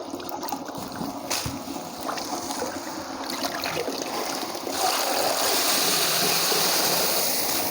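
Water splashes and trickles out of a container as wheat is washed in a village setting. Scattered drips and sloshes build into a steadier, louder pour toward the end, close by with no speech.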